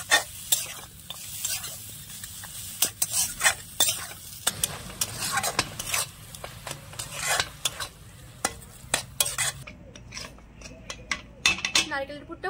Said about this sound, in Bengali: এবার নেড়ে ছেড়ে সুন্দর করে আমি একটা পুর বানিয়ে নেব।